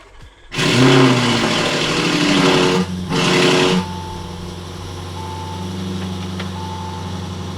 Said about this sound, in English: This Urus has a Ryft titanium exhaust. It has valves, so it will be loud, then it will go quiet because of the valves.